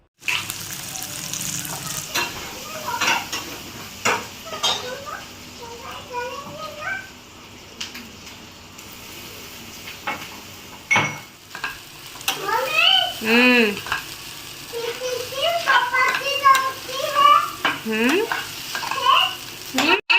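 Spicy noodles sizzle and are stirred in a pan in a home kitchen, with clinking stirring and frying hiss under frequent chatter and lively voices.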